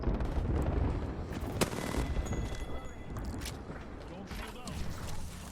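Heavy gunfire and rumbling airstrike explosions in a first-person shooter game, a dense continuous barrage with sharp cracks and deep booms, with players talking over it.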